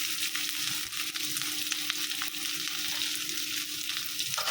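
Thick-cut onions frying in hot oil for a dried fish dish, a steady close sizzle and crackle running throughout with light stirring, no talking.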